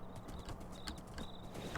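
Hooves clip-clop as a horse is ridden in the TerraFirmaCraft+ video game. The steps are quick and irregular, fairly close and moderately loud, with faint bird-like chirps and no talking.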